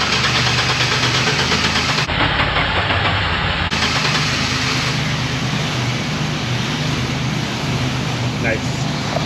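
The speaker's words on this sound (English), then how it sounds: "Let us restarting the engine." A Chevy Silverado with a 4.3 engine, being diagnosed for misfire and camshaft sensor codes, runs at a steady rough idle after restarting, a loud continuous rumble with a brief tonal shift early on.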